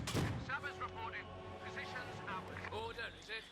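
Mortar shells burst in a Company of Heroes 2 1v1 match. Booming impacts come in quick succession over constant game ambience, and a commentator talks throughout.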